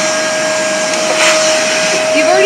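A vacuum cleaner runs loudly and close with a steady high whine, unbroken for the whole stretch.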